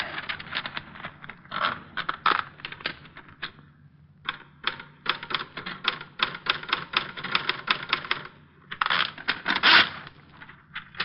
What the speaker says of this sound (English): There's a typewriter.